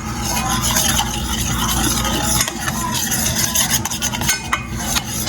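A spoon rasps and scrapes continuously around a pot as chocolate syrup is stirred into hot chocolate, a close, busy scratching texture with brief clinks and no talk.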